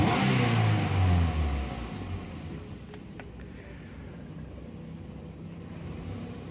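Car engine revving under a throttle blip during a knock-sensor and VVTi sensor check, a loud low rumble for the first two seconds that drops back to a steadier idle hum, with a few faint clicks near the middle.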